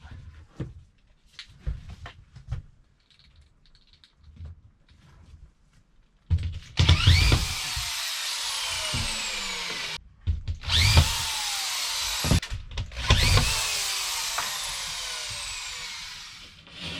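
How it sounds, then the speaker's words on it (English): A power drill drives screws into drywall in an old house, several loud whirring bursts of a few seconds each, separated by short pauses, after quieter handling knocks at the start. "See if we can get some screws in it."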